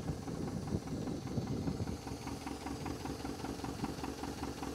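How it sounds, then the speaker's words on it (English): An International Scout 80 engine with an exhaust leak idles steadily nearby with a fast, even knocking rhythm and a low rumbling drone, no voices over it. "the motor sounds pretty darn good"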